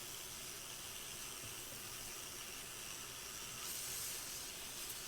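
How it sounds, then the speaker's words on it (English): Steady, faint hissing of steam from a steamer onto the top of a 1962 Harmony guitar runs throughout, a soft broadband spray that swells slightly near the end, with no voices. "I am definitely blowing steam here"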